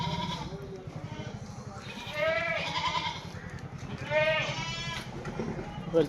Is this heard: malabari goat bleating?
yes